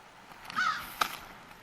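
A single crow gives a short, harsh caw, then a brief second call, heard faintly at a distance.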